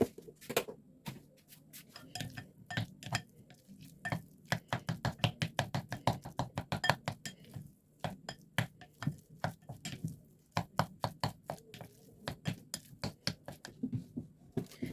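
Boiled potatoes with a teaspoon of butter being mashed for cottage pie, a long run of rapid rhythmic squelching thuds and clicks from the masher against the pot, close and fairly loud, with short pauses and no talk.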